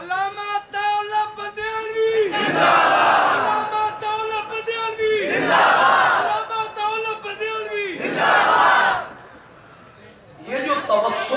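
A crowd at a religious gathering in Gujrat shouts slogans in loud rhythmic bursts, each call answered by a roaring group response, repeated about four times with a brief lull near the end.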